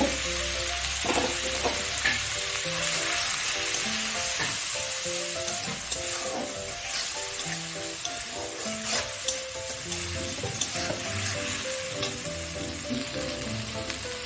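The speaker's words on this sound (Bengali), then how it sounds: "অল্প জল দিয়ে মশলাটা ভালো করে কষিয়ে নেব।" Spice paste of ground masala, turmeric, salt and chili powder frying with live freshwater giant prawns in a pan, a steady, close, continuous sizzle with faint stirring scrapes throughout and no talking.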